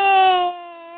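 A baby's cry heard up close as a single sustained, strongly tonal wail that is loud at first, then eases into a steadier, softer held note.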